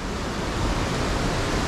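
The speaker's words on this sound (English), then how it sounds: "Oh, there's our first waterfall." Wairere Falls, a tall waterfall on New Zealand's North Island, gives a dense, steady roar of falling water, loud and constant with no other sounds over it.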